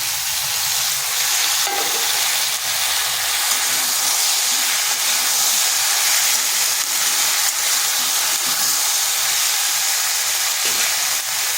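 Eggplant pieces frying with spinach in a hot pan, giving a steady, loud broadband sizzle and hiss that runs without a break, with light stirring scrapes and no talk.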